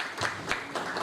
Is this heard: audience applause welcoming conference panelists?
yes